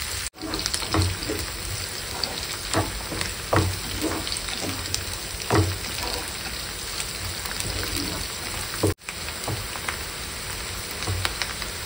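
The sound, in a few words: onions and green chillies frying in pan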